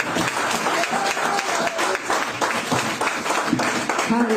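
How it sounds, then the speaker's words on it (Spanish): A church congregation applauds at a Spanish-language service, dense close clapping that continues steadily throughout with some voices mixed in. "Ven un aplauso al Señor y los demás pastores."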